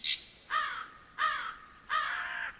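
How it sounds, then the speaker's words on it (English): Three loud, harsh crow caws repeat at a steady pace, with a brief higher bird call just before the first, set in a quiet forest ambience. "forest ambience"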